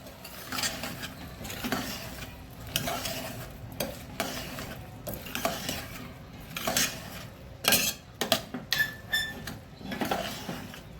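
Mixed vegetable khichdi stirred in a pot: a spoon scrapes and clinks against the metal in repeated strokes, with a soft sizzle underneath and sharper clanks toward the end, close and fairly loud, no talking.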